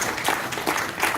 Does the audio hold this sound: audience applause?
yes